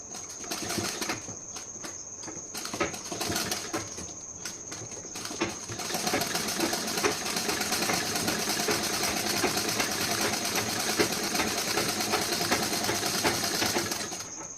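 Sewing machine stitching a blouse, a steady, continuous mechanical whir with a high whine, stopping and starting in short bursts at first and then running unbroken for several seconds.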